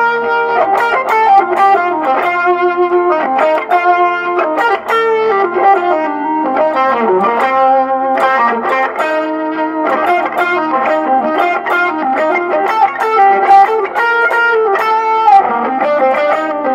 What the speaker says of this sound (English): I'm going to turn on a little bit heavier distortion so we get a little bit more sustain